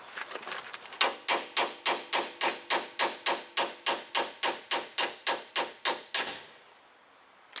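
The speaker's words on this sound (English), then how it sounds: "And then hit right here with the hammer." A hammer strikes a 2007 Toyota Tacoma 4x4 upper ball joint in a fast, even series of about sixteen sharp blows, each ringing briefly, before the hits stop and the sound fades.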